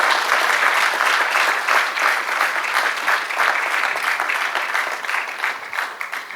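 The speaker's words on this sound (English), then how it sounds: "And you clap like you mean it." Sustained, loud audience applause at an international arbitration conference opening, thick continuous clapping from a full hall that holds steady throughout.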